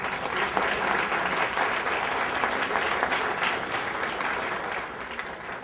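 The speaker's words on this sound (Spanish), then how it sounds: "Deseamos un fuerte aplauso" A conference audience gives a loud, sustained round of applause at an award presentation, dense and steady throughout with no clear talk on top.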